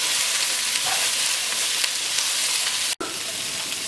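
Squash and broccoli stir-fry in a hot pan, a loud, steady sizzle that holds throughout with one brief sharp dropout near the end, and no talking over it.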